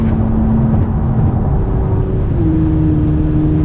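A Toyota Camry V6 with a D3 tune pulls at half throttle, with a loud, close engine drone and a whirring tone that steps upward in pitch as it accelerates, heard alone without talking.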